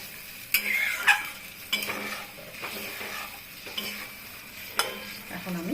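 Goat liver stir-fry in a pan on high heat with a bowl of water just added, giving a steady sizzle under scraping stirs and clinks of a spatula against the pan, close up and fairly loud.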